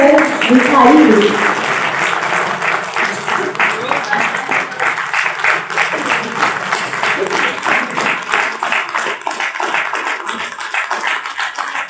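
Applause at an honours ceremony for young celibate Rajyogi men on National Youth Day, a steady, fairly loud patter of many hands that follows a brief voice at the start and continues evenly to the end.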